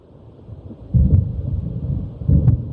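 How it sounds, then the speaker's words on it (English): Low, rolling thunder of an approaching storm in the Alan Wake game, with two heavier rumbles swelling over a steady windy wash. "It seems there's a storm coming"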